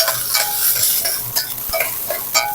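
Garlic sautéing in hot cooking oil for sinarsahang pork, a loud, close continuous sizzle with intermittent stirring scrapes and crackling pops, no talking.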